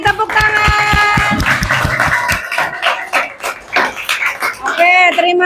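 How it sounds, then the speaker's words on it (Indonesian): Fourth-grade students in a madrasah classroom clap after a group presentation, with sharp, uneven claps mixed with voices and sung or chanted tones, close and fairly loud. "Silakan kasih tepuk tangan"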